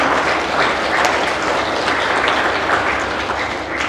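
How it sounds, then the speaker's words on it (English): Conference audience in a Dar es Salaam hotel hall gives sustained applause, a loud, dense and even wash of many hands clapping throughout. "Here to give a warm clap to our colleagues of Malawi and Uganda."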